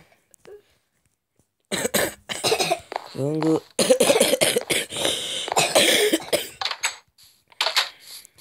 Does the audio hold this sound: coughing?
yes